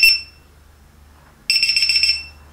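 A small buzzer on a 4-in-1 ESC servo PPM tester with battery voltage checker beeps in two shrill bursts, one short at the start and a longer pulsing beep after a pause, close and loud.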